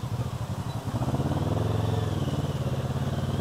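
A motorcycle engine idles low and steady as the bike coasts with the clutch disengaged, a rhythmic throbbing drone with no revving, fairly close and continuous.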